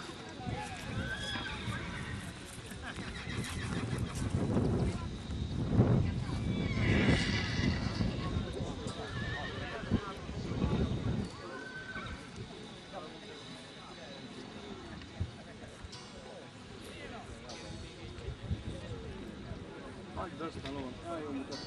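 Horses at a village show-jumping event, with occasional whinnies and hoofbeats in an open outdoor arena, mostly under ongoing talk and crowd noise.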